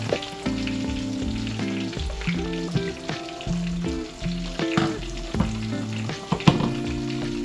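Chili sizzles as it fries in a pan, a steady hiss of moderate loudness beneath a prominent melodic music track.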